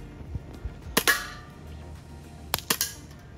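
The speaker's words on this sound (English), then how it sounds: "I'm just gonna be shooting the 6XP and we're gonna be shooting this 10 can." 6XP airsoft gun firing at a tin can outdoors, a few sharp snapping shots with metallic impacts, one single shot followed later by a quick cluster of two or three, against a quiet background.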